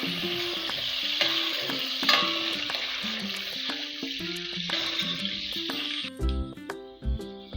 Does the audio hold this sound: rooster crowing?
no